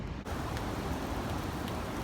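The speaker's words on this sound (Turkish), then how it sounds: "Yağmura yakalandık. Yağmur yağıyor." Steady rain falls outdoors in a highland meadow setting, a soft continuous hiss with no clear drops or other sounds, quiet and even throughout.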